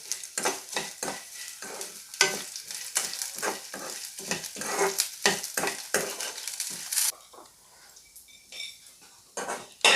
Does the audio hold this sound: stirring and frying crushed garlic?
yes